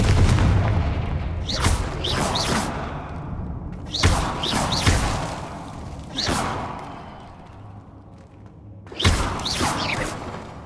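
Confringo fire-blast spell explosions in the game Hogwarts Legacy, four booming blasts at irregular intervals, each a sharp thud with a crackling burst, over a steady rumbling game backdrop.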